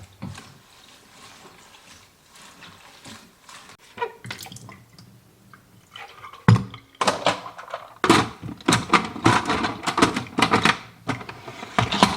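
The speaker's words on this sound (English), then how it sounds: "I'm just going to throw everything right into my salad spinner, add a little bit of vinegar to it, and get them all rinsed up" Herbs such as chives and raspberry leaves are rinsed with water and a little vinegar in a plastic salad spinner, first faint rustling and trickling, then a loud, close burst of rapid clattering and splashing.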